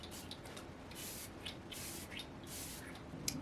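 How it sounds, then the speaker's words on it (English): Morphe Luminous setting spray misted from a pump bottle onto a sponge and face, several short hissing bursts in a row at close range over a steady low background hiss. "I'm using the Morphe Luminous Setting Spray."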